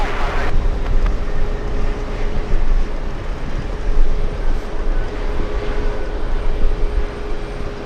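Emirates jet airliner on final approach to Los Angeles airport, a broad, steady roar of engine noise at moderate distance, sustained and fairly loud throughout with slight swells.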